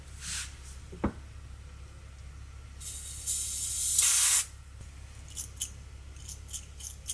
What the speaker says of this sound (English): So I'm just gonna spray again where the mechanism is.